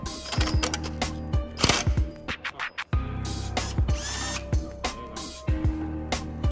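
A ratchet wrench loosening a nut on a car's mount, quick bursts of clicking ratchet strokes in uneven runs with short pauses, close and fairly quiet.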